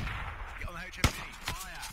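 Heavy machine gun fire in the military video game Squad, a few sharp heavy reports within two seconds, one much louder than the rest, mixed with game noise and a voice underneath.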